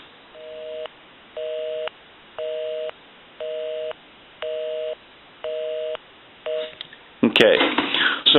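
A 3-slot payphone under repair rings with a busy signal, seven evenly spaced beeping tones, followed by a burst of louder handling noise and voices at the end.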